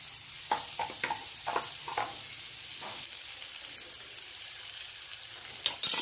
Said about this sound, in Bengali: আর এটাকে ভালো করে নাড়াচাড়া করে নেব।